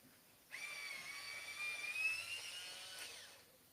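A dull colored pencil being sharpened in a sharpener gives a steady, high-pitched whirring grind of about three seconds, close and fairly loud, starting abruptly and tapering off at the end.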